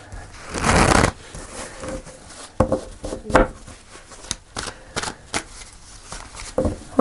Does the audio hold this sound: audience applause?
no